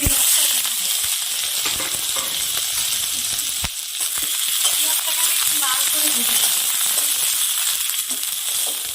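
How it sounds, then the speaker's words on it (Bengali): Chopped onion frying in hot mustard oil in a wok: a loud, continuous crackling sizzle that stays close and even throughout, with occasional faint scrapes of stirring. "পেঁয়াজটা আমার হালকা ভাজা হয়ে গেছে।"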